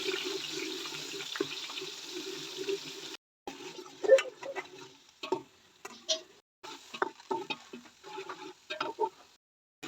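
Onions hiss in hot oil at first, then the sizzle breaks into intermittent bursts of clattering and stirring, fairly close and no talking.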